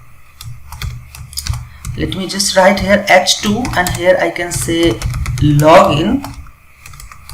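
Keyboard clatter from typing code for a React and Firebase OTP login form, a steady run of close keystrokes heard under continuous talk.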